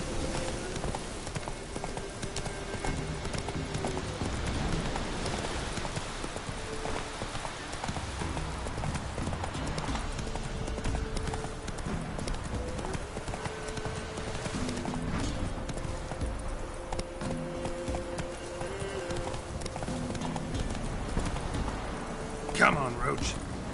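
Roach the horse in a video game, steady rhythmic hoof clip-clops on the ground throughout, with spoken dialogue and background music over the hoofbeats.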